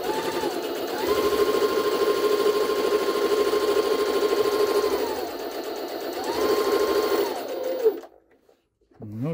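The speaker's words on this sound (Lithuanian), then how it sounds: "O dabar mes siūnam trikotažą su paprasta stora adata." A Jaguar SJ-23 domestic sewing machine stitches knit fabric with an ordinary thick needle, running in a steady fast whir for several seconds, pausing briefly, then resuming before stopping; the motor sound is close and loud, with no talking.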